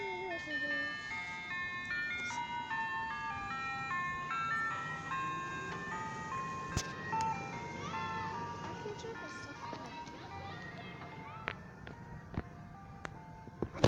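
An ice cream truck's chiming melody plays steadily throughout, moderately distant, with children and adults talking and calling out over it.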